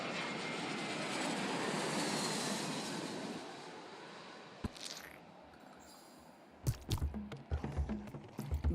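A roaring airplane engine from the video game Genital Jousting builds and holds through takeoff, then fades away. Louder clattering game sounds with thumps follow near the end, and no one speaks.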